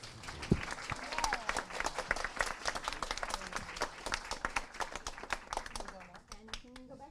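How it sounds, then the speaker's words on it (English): An audience in a theatre claps and applauds steadily for several seconds, a dense patter of many hands with a few sharper claps standing out, fading slightly at the end. "let's have another round of applause for our fabulous volunteers"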